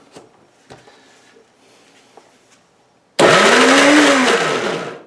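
A Cosori Pro blender grinding olive hummus of chickpeas, sauce and olive oil, starting abruptly after a few quiet clicks and roaring loudly, its motor pitch dipping and rising as it runs.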